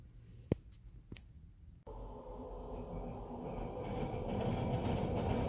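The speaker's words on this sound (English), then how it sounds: "Ayan na yung Skytrain" A Vancouver SkyTrain passes after a few sharp clicks, its rumbling wheels and motor hum swelling from moderate to louder and sustained as it rolls by at a short distance, with no talk.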